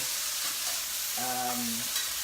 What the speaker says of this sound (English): I hope you guys can hear me over the loud sizzling of my pan